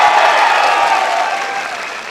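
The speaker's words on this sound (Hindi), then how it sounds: "दोनों हाथ खुलकर जोरदार तालियां बजाओ" A crowd at a poetry gathering in Malegaon claps loudly with both hands, a dense, strong burst of applause that tapers slightly over a couple of seconds with no talk.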